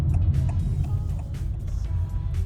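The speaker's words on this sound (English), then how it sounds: "the inside city cabin noise," Cabin noise inside a Honda Elevate ZX manual driving in the city, picked up by a phone's built-in mic: a steady low engine and road rumble with occasional faint higher ticks and rustles, continuous and even.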